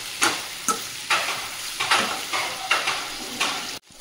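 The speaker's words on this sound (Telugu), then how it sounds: "ఇప్పుడు మనం టమాటా యాడ్ చేసుకుందాం. ఈ టమాటా స్కిన్ ఊడిపోయే వరకు వేయించుకోవాలి." Tomatoes frying in a pan, with a spoon stirring them through a steady sizzle. Sharp clinks of the utensil against the pan recur about every half second, and the sound cuts off at the end.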